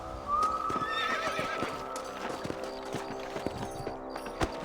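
Horses in Red Dead Redemption: a loud whinny rises early, followed by steady rhythmic clip-clop of hooves over an ambient bed, close and clear with no speech.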